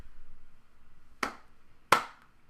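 Two sharp hand claps land about 0.7 seconds apart in a short rhythm made of a quarter note, paired eighth notes and a quarter rest. They are close and crisp and stand alone over a faint background murmur.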